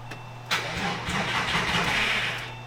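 A Porsche 911 engine, being swapped into a widebody car, cranks and catches after years without running: a sharp start burst, then a steady mid-pitched engine rumble settling toward idle, close and loud.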